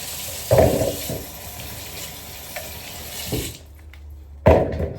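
Tap water runs steadily into a kitchen sink as onions are washed, with a few louder splashes and clunks of handling before the flow cuts off and briefly resumes.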